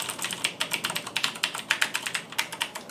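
Typing on a Razer BlackWidow Tournament mechanical gaming keyboard, a steady run of close, sharp key clicks with a slightly deep thock under each stroke, alone and fairly quiet.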